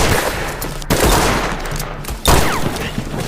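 Dense gunfire from a western film shootout: continuous loud crackling volleys with sudden bursts and shifts, near and overwhelming, with no speech.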